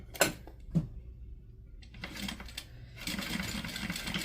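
Sewing machine stitching a quilt seam with the needle dropped into the seam allowance, a few soft clicks then short bursts of quiet close-up whirring, faint and intermittent.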